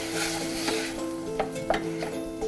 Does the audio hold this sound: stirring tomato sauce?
yes